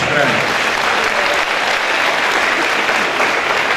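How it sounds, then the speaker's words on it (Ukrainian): Audience at a KVN comedy show in Uman applauds steadily and loudly throughout, a dense continuous clapping with crowd murmur and no pauses. "будь ласка, і аплодисменти також"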